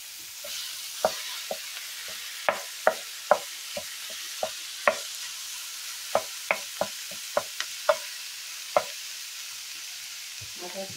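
Pork sausage added to a pan of chili, with a spoon stirring and scraping through it in a steady run of sharp taps and soft sizzle, close and moderately loud with no talking.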